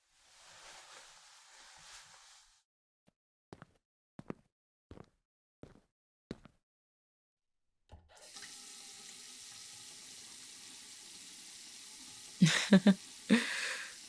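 A sink tap gushes water in a bright, hissing rush, stops for a run of sharp clicks and knocks, then flows again more strongly, with a few louder splashes near the end.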